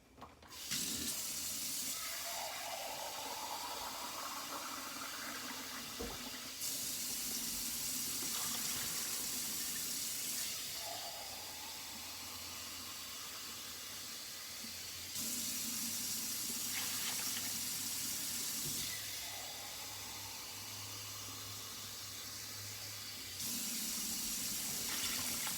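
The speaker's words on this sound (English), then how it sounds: "I'm going to add some water." Tap water pouring into a pot for lentil soup, a steady hissing stream that stops and restarts several times, close and clear.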